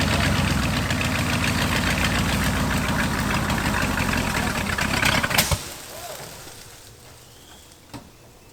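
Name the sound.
old big block Ford 4x4 engine idling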